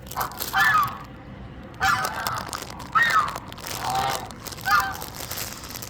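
Ducks or geese at the KAIST campus pond giving four or five loud, nasal honking calls in separate bursts about a second apart, close by, with a quiet outdoor background between calls.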